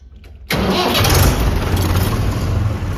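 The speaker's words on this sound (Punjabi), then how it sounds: "ਟਰੈਕਟਰ ਵੀ ਵਾਪਸ ਆ ਗਿਆ ਆਪਣਾ" A tractor engine bursts into life after a short quiet start, then runs on as a loud, steady, close rumble with no voices over it.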